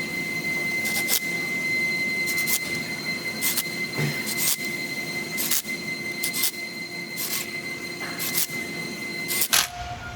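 Rear differential cover being bolted back onto a Pontiac G8 GT during a Camaro differential conversion, a series of regular short mechanical bursts like a power tool running down bolts over a constant whine, close and fairly loud.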